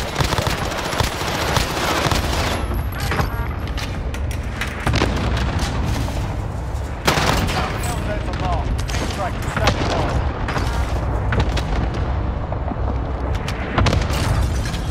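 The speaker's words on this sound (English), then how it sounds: "Designating airstrike target." Airstrike explosions boom repeatedly in a combat video game, heavy blasts and crackling gunfire layered densely and loudly throughout, with voices briefly heard amid the barrage.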